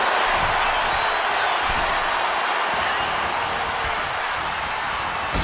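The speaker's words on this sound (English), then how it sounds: "Just listen to this crowd. Every one of them is on their feet." A packed wrestling crowd on its feet roars and cheers in a dense, steady wall of noise that stays loud and unbroken throughout.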